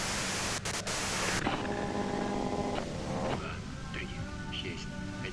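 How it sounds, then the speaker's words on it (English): Loud, steady broadband white-noise hiss from the video game Disco Elysium fills the whole stretch, with faint tonal hum and a voice-like murmur woven underneath. "you can do it through the white noise"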